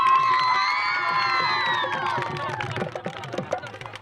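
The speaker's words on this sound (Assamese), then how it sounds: "এটা হাত চাপৰি" Audience at a Bihu celebration in Assam claps and cheers, an early burst of whoops and shouts that fades into scattered clapping.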